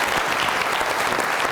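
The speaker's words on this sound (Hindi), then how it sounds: "बहुत सारी तालियां इनके लिए।" A studio audience on a comedy talk show applauds in a thick, continuous burst of clapping, loud and close throughout the short stretch.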